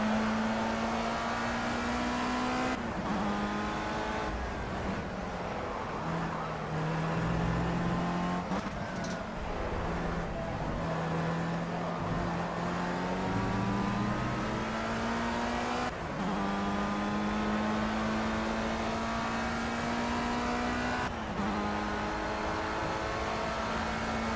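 Formula Rookie open-wheel race car in Project CARS, engine droning loud and steady at high revs with rising gear sweeps and brief drops at each shift, continuous throughout with no talk.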